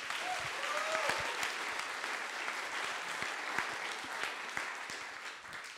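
An audience at a coding bootcamp demo day in Paris claps for a student team. The applause is dense and sustained, a crowd clapping evenly at moderate distance with no voices on top.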